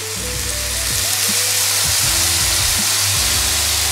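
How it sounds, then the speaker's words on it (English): Seasoned meat and egg frying in a pan for a protein bowl, a loud, steady sizzle with crackling spatters and occasional stirring clinks throughout. "keep mixing and stirring so that the meat gets cooked"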